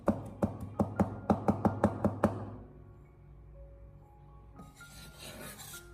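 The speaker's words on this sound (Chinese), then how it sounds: "我们再准备小块的生姜，先用刀给它拍一下，最后再将它改刀切成姜末" A knife minces fresh ginger on a cutting board with about ten quick, evenly spaced chops close by. A quiet pause follows, then a short scraping rustle.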